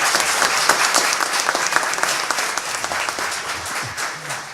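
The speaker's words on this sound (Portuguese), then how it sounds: "quero uma salva de palmas para o Lindolfo" An audience at a public hearing in Belo Horizonte breaks into sustained applause, dense clapping from many hands filling the room and tapering slightly toward the end.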